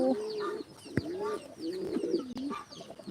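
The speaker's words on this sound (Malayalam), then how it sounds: "സൗണ്ട് കേട്ടോളി പ്രാവിൻ്റെതാ" A pigeon coos in repeated low, throaty phrases, close by, with a brief knock partway through.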